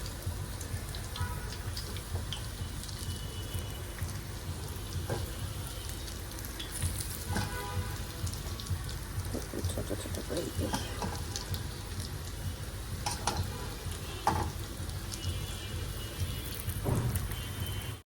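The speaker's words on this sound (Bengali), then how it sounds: "আলুটাকেও ফ্রাই হওয়ার একটু স্পেস দিতে হবে" Small pieces of raw potato fry in a pan with a steady, soft sizzle that is quiet and continuous throughout, with occasional light clinks and faint background voices.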